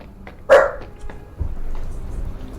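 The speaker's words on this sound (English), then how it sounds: "really wish I knew why Mila was just casually barking right next to me" A single loud, sharp dog bark sounds close by, followed by faint shuffling and low background noise.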